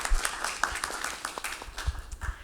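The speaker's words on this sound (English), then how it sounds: "Can we get a round of applause for them?" A small conference audience clapping for the organising team, a brief scattered patter of individual claps, fairly faint and sparse rather than a full ovation.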